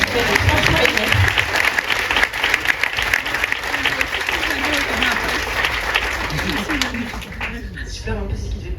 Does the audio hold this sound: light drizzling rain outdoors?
no